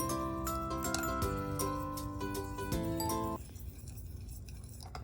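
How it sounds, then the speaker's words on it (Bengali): A spoon clinks against a bowl while mustard oil and spices are stirred together for a hilsa fish dish, with bright, rapid taps close by for about three seconds before the sound gives way to quieter scraping. "ভালো করে মিক্সড করে নিচ্ছি"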